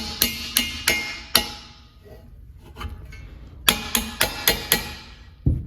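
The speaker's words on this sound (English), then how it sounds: "we're just hitting this bolt head, nothing's getting hurt, and now it's locked in" Hammer tapping a bolt head to seat a P-clamp on a motorcycle exhaust head pipe, a rapid run of sharp metallic taps, a pause with faint handling, then another quick series, close and clear with no voices.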